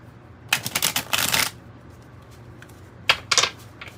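Up close, a deck of tarot cards is shuffled in two separate bursts of quick, crisp riffling and flapping, with a quiet pause between them.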